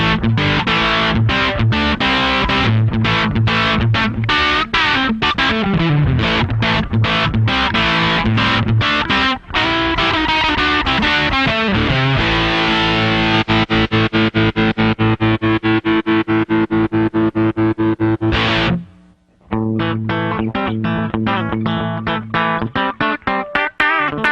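Heavily fuzzed electric guitar through a Line 6 M9 fuzz and tube compressor plays chords and riffs, thick and compressed with sustained distortion, a brief silent gap near the end.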